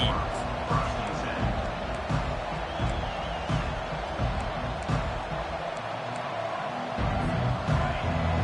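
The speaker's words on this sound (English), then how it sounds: "This crowd, full throat, spreading the eardrums and letting them know it's going to be a long day." A stadium crowd roars steadily and loudly throughout a college football video game between Georgia and Texas, a dense, unbroken wall of cheering beneath an announcer's commentary.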